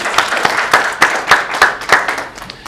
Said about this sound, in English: Carol and Ken Snodgrass, 56 years. That deserves some applause.